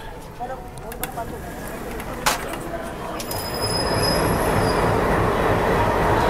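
Pune Amravati Express standing at a station as a locomotive is coupled on: clanks and a sharp metallic bang, then wheel squeal and a rising rumble of rail movement nearby, with people talking underneath.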